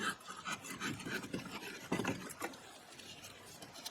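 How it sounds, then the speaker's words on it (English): Front brake caliper on the right side of an Audi A4 being pulled off its mount after springs and pins are removed, giving close scraping and rubbing metal sounds with a few louder scrapes midway. "so now I'm going to pull this caliper off"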